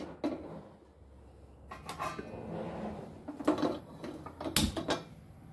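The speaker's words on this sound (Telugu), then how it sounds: "ఇప్పుడు నెక్స్ట్ ఒక ప్యాన్ అయితే పెట్టుకోవాలి" Metal pan clattering onto a home kitchen stove while making palak onion chutney, with a few scrapes and knocks and one sharp clank near the end, close and fairly faint, no talking.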